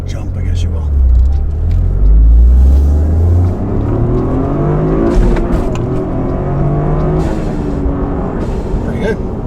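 A tuned Toyota GR Corolla's engine revs hard and accelerates under load, a loud close rumbling pull that climbs in pitch and then settles, with in-car road noise and people talking.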